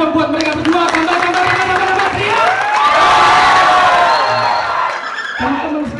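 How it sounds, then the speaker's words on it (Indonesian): An audience at a public speaking session cheers and claps for two participants, a loud swell of cheering, whoops and applause that builds in the middle and then eases off. "Tepuk tangan dong buat mereka berdua."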